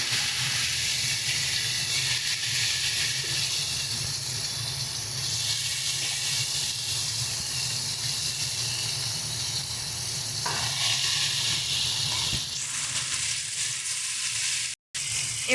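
Panch phoron, bay leaves, boiled taro stems and chickpeas sizzle steadily in hot oil, a dense close hiss that runs on for the whole stretch, shifts slightly as the pan is stirred and cuts off briefly near the end.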